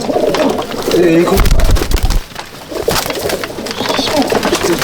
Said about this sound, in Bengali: পায়রাটা ডাকতে চাচ্ছে